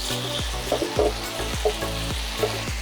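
Mixed vegetables with red chili sauce, sliced onion and vinegar sizzle steadily as they are stir-fried, with rhythmic scraping and stirring strokes recurring about every half second over the constant frying hiss.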